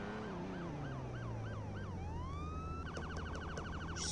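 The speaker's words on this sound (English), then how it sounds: "I hear some sirens" Police sirens in a Roblox roleplay game, a rapid yelping wail that shifts into a long rising tone and then a fast pulsing warble, steady and moderately faint with no talking.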